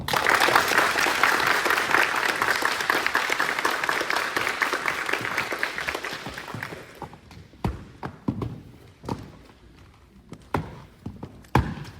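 An audience claps loudly and densely for cadets receiving academic ribbons at a ceremony, then the applause thins out into a few scattered late claps before fading.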